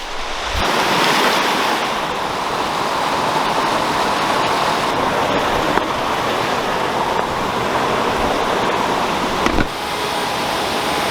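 Steady, loud rushing roar of the Boyana Waterfall heard from the top of the falls, a dense unbroken wash of water noise with some wind buffeting on the microphone and no voices.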